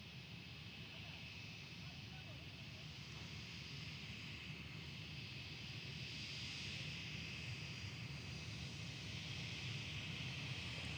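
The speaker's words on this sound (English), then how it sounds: "First Alpha 11 departure today. It's an A319 heading off." An Airbus A319 airliner departs from the airport, its jet engines forming a distant, steady roar and hiss that swells slightly over several seconds, with no voices heard.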